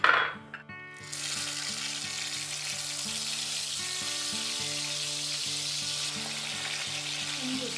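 Pomfret fish frying in a hot pan of oil, a steady loud sizzle that swells after a brief quiet start and holds evenly throughout, with faint kitchen hum beneath.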